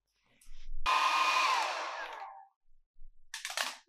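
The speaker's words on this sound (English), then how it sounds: "I'm going to get my hairdryer out now and I will dry this off" A hairdryer blows onto a wet watercolour painting, starting abruptly and running steadily for under two seconds before cutting off, followed by brief bursts of airflow near the end.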